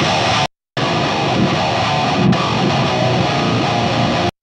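Distorted electric guitar played through a guitar cabinet captured by a close microphone, a dense, loud wall of driven chords with a brief silent gap near the start, no talk.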